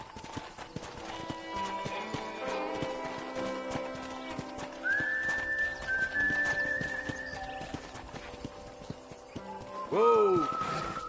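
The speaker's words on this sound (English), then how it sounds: "let's see if you can still ride a horse" Horse hooves clip-clop steadily through a ride in the Western video game Red Dead Redemption, with a brief whinny partway and a louder neigh near the end, all under background game sound and occasional voices.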